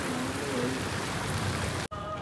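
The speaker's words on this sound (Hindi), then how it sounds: "अभी तक बारिश हो रही है" Steady rain patters over a wide hiss, continuous and fairly loud, with a brief sharp dropout near the end, after which the sound returns slightly quieter.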